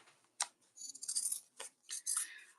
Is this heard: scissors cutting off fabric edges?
yes